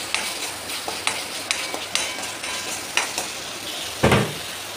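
Masala paste with a little water sizzles and spits in hot oil, a steady frying hiss broken by sharp stirring scrapes and one louder burst near the end.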